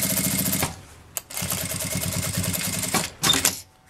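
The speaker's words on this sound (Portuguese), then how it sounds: "Pronto, fiz essa primeira costura." A sewing machine stitches a seam along the edge of an accordion-style fabric wallet, running in fast rhythmic bursts separated by brief pauses and a single click, loud and close with no talking.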